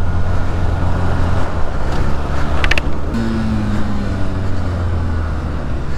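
A fast car overtaking in traffic, with a loud close engine drone and tire roar that shifts tone midway as the vehicle passes, plus a brief sharp rattle, no talk.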